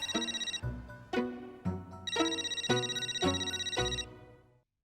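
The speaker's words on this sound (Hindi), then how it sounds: "किसका फोन है?" A phone ringtone repeats in a regular pattern of bright electronic tones, fairly quiet and alone, then stops.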